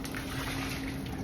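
Hot pasta water poured from a pot into a kitchen sink with a mat at the bottom, a steady, fairly quiet gushing splash that runs continuously without pause.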